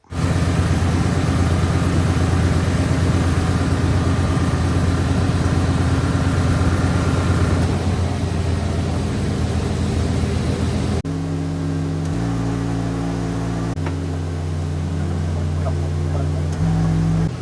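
A truck engine fitted with a 700R4 transmission runs steadily nearby, a loud continuous drone with a shift in tone partway through as the engine note steps between levels, no voices.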